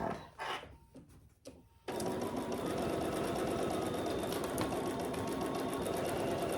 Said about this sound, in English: I'm not stitching on my Peltex, I'm stitching right next to it.